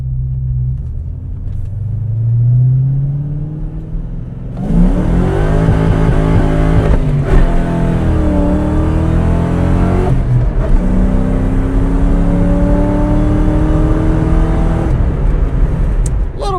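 A 1999 Ford Saleen with a supercharged 4.6 V8 roars as it accelerates hard, a deep rumble rising into a loud, sustained snarling pull that continues through gear changes.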